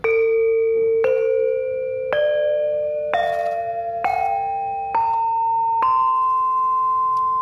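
Javanese gamelan saron, a bronze-keyed metallophone struck with a mallet, rings out eight evenly spaced notes climbing step by step, each with a bright metallic attack and lingering resonance, close and clear with no speech.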